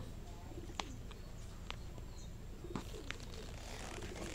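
A pigeon coos softly outdoors, a few low murmuring calls against a quiet background hum, with faint chirps and no speech.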